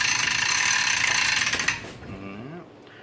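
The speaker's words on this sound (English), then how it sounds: "It looks like his clicker is a bit worn." A worn clicker ratchet on a 16/0 fishing reel buzzes in a rapid, loud, continuous rattle for over a second, then cuts off, leaving faint mechanical ticks and handling noise.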